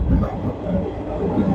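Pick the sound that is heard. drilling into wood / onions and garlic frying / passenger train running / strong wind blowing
passenger train running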